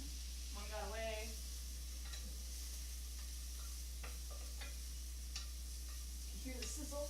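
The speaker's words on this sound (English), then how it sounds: "You hear the sizzle?" Leeks sizzle steadily in a hot frying pan, with scattered crackles and pops and a few soft scraping stirs over a constant low hum.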